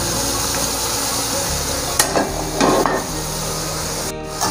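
Spaghetti noodles for chicken chow mein are stirred and tossed with masala in a hot pan, a continuous sizzle broken by a few sharp scraping clanks of the utensil against the pan.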